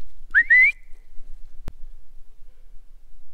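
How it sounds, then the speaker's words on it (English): A single short two-part whistle sounds from a person in the Wisconsin woods during a deer hunt, clear and moderately distant, followed by quiet with one brief sharp knock. "Hear they're whistling."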